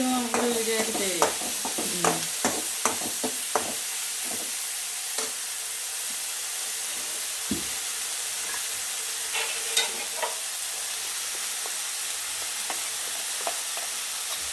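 Homemade hair oil steeped with curry leaves, henna leaves and hibiscus sizzles and hisses steadily in a pan, with scattered stirring scrapes and small pops over the constant frying noise.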